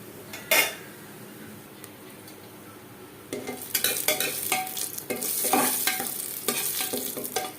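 Four dried red chillies and bay leaves fry in mustard oil for a Bihari-style potato mutton curry. A quiet sizzle with one sharp clink is followed by busy stirring and clattering of a utensil against the pan over the hiss.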